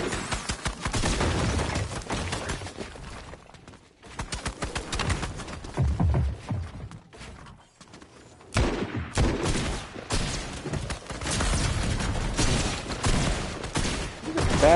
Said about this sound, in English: Bad shotgun shot.